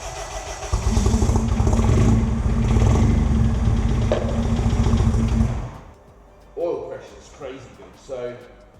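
A Honda K20 engine swapped into a Toyota MR2, still without its throttle position sensor, cranks and catches. It runs loud and rough for about five seconds, then cuts out, followed by a few short bursts of nearby talk.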